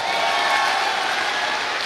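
An audience clapping, a brief, dense burst of crowd applause with faint cheering mixed in, steady and moderately loud.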